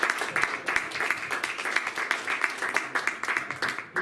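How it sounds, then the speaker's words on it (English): An audience at a legal roundtable gives a short round of applause, brisk close clapping of a modest crowd that carries on steadily for several seconds. "big round of applause for Mohammed."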